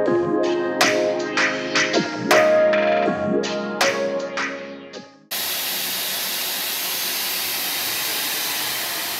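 A Black+Decker vacuum cleaner switches on partway through and runs as a loud, steady, hissing whoosh that continues evenly to the end, after an opening stretch of other tonal sounds.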